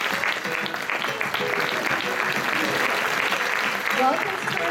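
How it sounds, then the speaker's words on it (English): Loud, steady applause welcomes the Egyptian student delegation at the opening of the Taiwan International Science Fair, continuous clapping throughout with voices mixed in beneath it. "热烈掌声欢迎埃及的同学"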